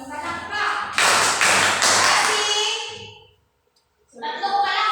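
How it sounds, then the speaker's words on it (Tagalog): A Grade 4 class claps three loud claps together, evenly spaced, followed by a brief pause and then a voice speaking. "Tatlong palakpak ng sabay-sabay."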